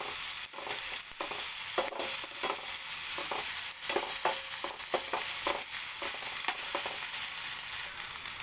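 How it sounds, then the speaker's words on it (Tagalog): A utensil stirs sausage frying in a pan, scraping and clacking irregularly over a steady, loud sizzle. "Haluin natin."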